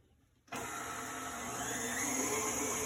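An electric mixer switches on and beats batter in a bowl, a loud continuous whirring motor drone that starts abruptly and holds steady, slightly rising in intensity.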